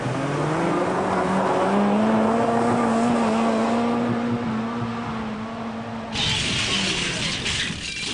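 Steady engine drone of a Lada car with rising and falling pitch as it accelerates, loud and close throughout, with a brighter rattling hiss joining near the end.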